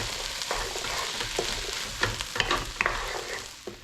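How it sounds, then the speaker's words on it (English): Eggplant and chickpea mixture stirred in a hot skillet with lemon, a steady sizzle under scraping spoon strokes and sharp little clinks against the pan. "Give that a stir."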